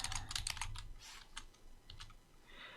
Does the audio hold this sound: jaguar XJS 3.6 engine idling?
no